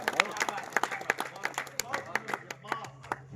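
Scattered applause from an audience at a Hindi poetry recital, a sparse, uneven patter of separate claps rather than a full roar, moderately faint, with a low steady hum beneath.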